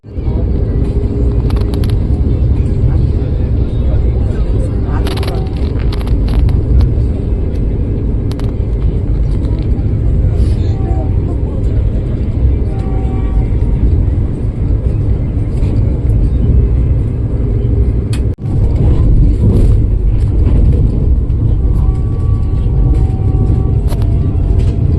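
Steady, loud rumble of the Chennai–Mysuru Vande Bharat Express running at about 130 km/h, heard from inside the coach as a continuous roar with faint clicks and a brief jolt near the end.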